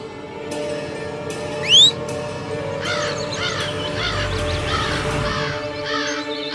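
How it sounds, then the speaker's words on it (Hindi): Kite bird calling in a television drama scene, a sharp rising whistle-like screech followed by a series of harsh, repeated calls over a droning musical background. "ये मेरी चील है रंबा, जो देव पर वार करेगी।"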